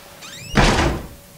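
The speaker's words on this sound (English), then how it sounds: "I don't know if I should close that door behind me or not." A door closes behind the player in the horror game Outlast: a faint creaking glide followed by one loud, close wooden thud that rings briefly and decays.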